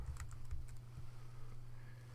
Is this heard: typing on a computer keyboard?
yes